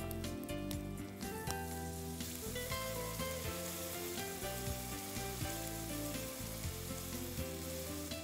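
Ground spice powder sizzles and fries steadily in a hot pan while being stirred, a continuous close crackle broken by scraping and clinking strokes throughout, with no voices.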